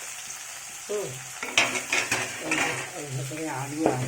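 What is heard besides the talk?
shrimp frying in a pan with vegetables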